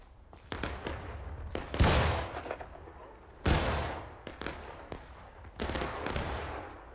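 Musket volleys crack out in a War of Rights battle, several loud, sharp shots with long rolling echoes, some close and some farther off, spaced a second or two apart with no talk over them.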